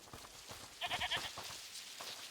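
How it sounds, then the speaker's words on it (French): A goat bleating in the video game A Plague Tale: Requiem, a short burst of wavering, stuttered bleats standing out over quiet background rustle. "Écoutez, c'est la chèvre du monsieur."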